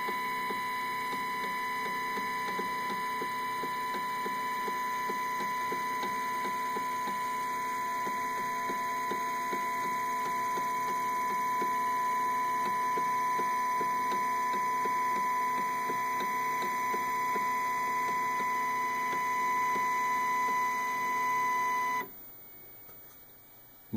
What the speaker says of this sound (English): if you can listen, you'll hear a click sound as the plate is going down